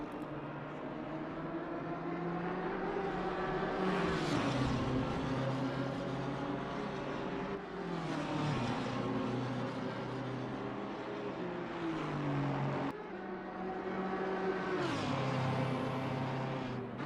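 GT race cars howl around Monza in Assetto Corsa Competizione, with engine notes rising through the gears and dropping on upshifts and braking, several cycles in a row, heard at moderate level with no talk.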